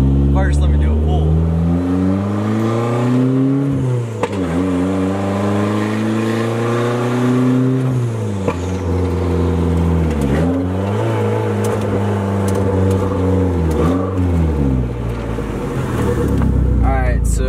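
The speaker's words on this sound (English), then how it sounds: "right here we have my 1999 Mazda Miata swapped with the 2005 Mazdaspeed Miata Turbo" A 1999 Mazda Miata with a 2005 Mazdaspeed Miata turbo engine swapped in revs hard through repeated pulls. Each climb builds in pitch, then drops at the gear changes, loud and close throughout.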